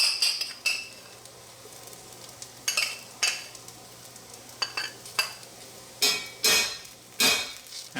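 Tomato paste is stirred into caramelized mirepoix in a hot pan for espagnole sauce. Repeated scraping strokes and utensil clinks land in an uneven rhythm over a low, constant sizzle, close and fairly clear.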